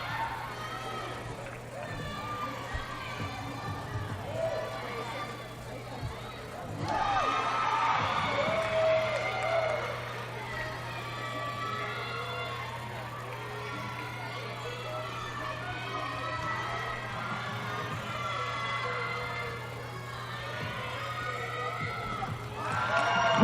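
Spectators at a college gymnastics meet between Utah State and Centenary keep up a steady crowd roar with cheering and whoops, lifting noticeably partway through, while people talk over the noise.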